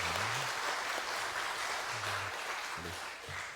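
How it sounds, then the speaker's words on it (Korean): Church congregation applauding during a Sunday service, steady dense clapping from many hands filling the room, fading slightly at the end. "우리 하나님께 영광의 박수 올려드립니다."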